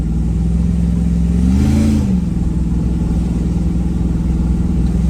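A supercharged Hemi engine in a grocery-getter vehicle idles loudly, then blips up in a brief rev near two seconds before settling back to a deep, rumbling idle.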